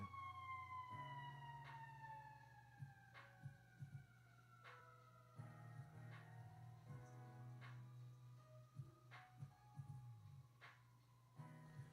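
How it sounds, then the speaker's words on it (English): An emergency siren wails in long falling sweeps, fairly faint and distant, with a steady low hum and occasional knocks underneath. "Excuse the siren."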